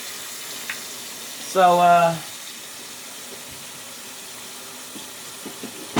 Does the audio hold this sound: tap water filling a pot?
yes